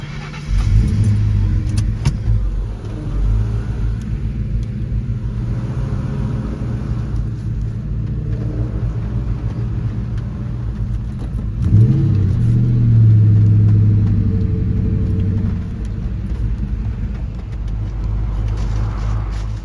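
Two Ford Mustang GTs, one silver with bullet wheels, cruise around town in the rain, giving a steady low engine rumble with a couple of brief throttle swells and faint wet road hiss, no talk.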